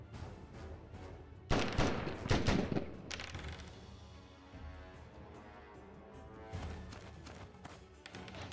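Gunfire striking flamer units in Total War: Warhammer during a Ratkin Clans battle: a sudden loud burst of shots and impacts, followed by quieter scattered fire and a second smaller volley later, with battle ambience between.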